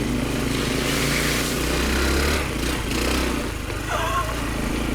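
A Honda motorcycle engine drones through wet, muddy ground on a Michigan trail ride, a steady close rumble that dips and surges as the rider works through the muck, with no voices.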